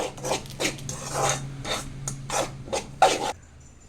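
Maggi noodles with masala are stirred in a pan, producing close, repeated scraping strokes of a utensil against the metal in a steady rhythm, with no talk.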